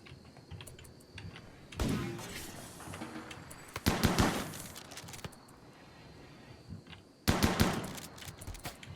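Bursts of gunfire from a RimWorld battle, several rapid rattling volleys separated by quieter stretches, fairly close and sharp, with no talk over them.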